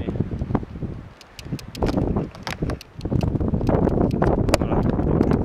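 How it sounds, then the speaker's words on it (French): Strong wind blows across an exposed mountain summit at Mont Gibaou, buffeting the microphone in loud, continuous gusts with rustling, steady and close throughout. "Avec le vent, de toute manière, il y a tout qui va s'arracher."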